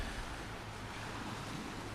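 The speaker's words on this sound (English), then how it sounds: "the wind is still up, water's pretty high" Steady wind rushes over choppy, high water at an island shoreline on a stormy autumn morning, a continuous broadband surf roar with no talking.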